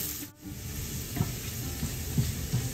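Garlic sautéing in oil until golden brown, a steady hissing sizzle with occasional soft stirring scrapes, heard alone and fairly close.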